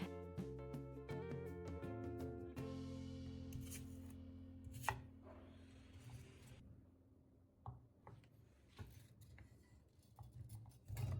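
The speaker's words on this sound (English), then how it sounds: "After cutting the kiwi and apples into small pieces, place everything into a glass jar or a blender." A knife chops kiwi and apples into small pieces on a board, giving a run of quick, crisp cuts that thins into scattered single knocks, near and fairly quiet.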